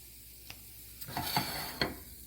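Sausage, peppers and onion cook slowly in a pan, giving a quiet sizzle broken by a few soft stirring scrapes and taps, close and faint with no talking.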